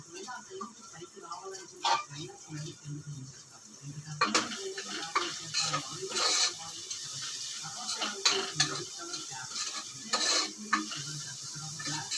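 Chopped onions fry in a pan for a chicken liver curry, with a soft, steady sizzle and repeated scraping, clinking stirring strokes; a voice speaks intermittently over the cooking.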